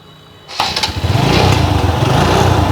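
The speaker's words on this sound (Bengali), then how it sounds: "তো বিভাস আমরা বাইকের চাউন্ড একটু শোনানোর চেষ্টা করতেছি আপনাদেরকে" A used motorcycle engine starting up after a brief quiet moment, then settling into a steady, rough, close idle that runs on alone.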